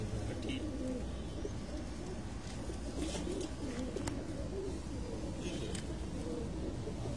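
Pigeons cooing on a rooftop loft where pigeons are bred and flown, a steady low cooing chorus close by amid continuous outdoor ambience, with faint distant traffic.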